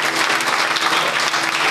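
A church congregation bursts into sustained applause for the Lord, a dense, steady wash of many hands clapping at once that carries evenly through the whole stretch with no speech over it.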